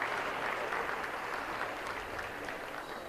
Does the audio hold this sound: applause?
yes